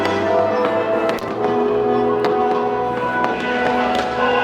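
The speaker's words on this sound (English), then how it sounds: "Nice to get the fireworks up and going." Christmas fireworks in Sydney pop and crackle in a dense, irregular string of sharp bursts over a steady background hum, fairly loud, with no talking.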